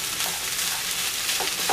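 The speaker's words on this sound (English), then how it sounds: "I just mix the peas here" Fresh peas stirred in a hot cooking pan for a beef and vegetable risotto give a brief, loud, steady sizzle with faint scraping, close up and without speech.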